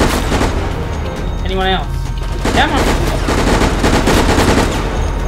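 Rapid gunfire bursts in the video game Operation Raccoon City, loud and continuous under an excited player's voice and game effects.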